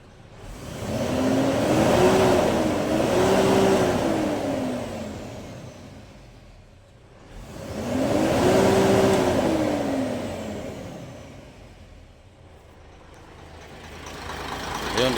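A car engine revs twice in long, swelling bursts during an RPM check after a repair that fixed low power, each rise climbing and falling back to idle, loud and close.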